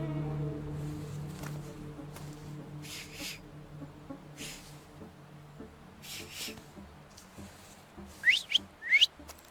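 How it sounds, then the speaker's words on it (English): A character whistles in The Thaumaturge: a quiet, breathy backdrop gives way to two short, sharp rising whistles near the end, loud and close. "So, have you mastered whistling?"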